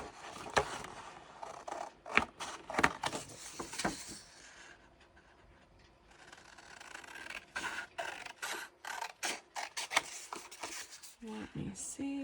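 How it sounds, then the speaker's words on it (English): Scissors fussy cutting around vintage paper cut-aparts at a craft table, with close, soft snipping and papery rustling in irregular bursts, under faint background noise. "But I can fussy cut around that."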